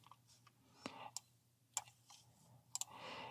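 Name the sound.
computer mouse click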